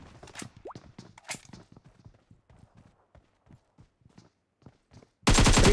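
Gunfire in a Free Fire squad-versus-squad battle on the Ancient Secret map: scattered sharp shots crack out in a loose rhythm, then a sudden, loud, sustained burst of fire closes it off.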